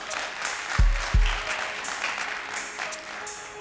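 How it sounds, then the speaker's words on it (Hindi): Studio audience applauding on a televised quiz show, a steady burst of clapping with a few louder thumps and brief tonal stings from the set, filling the whole span without speech. "तालियां बजाएं।"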